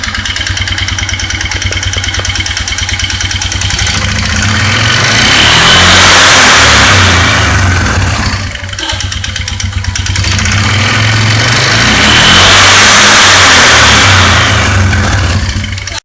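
Polaris Sportsman ATV with a belt-driven clutch, engine revving up and down in two long surging swells, dropping briefly toward idle between them, loud and close, no voices.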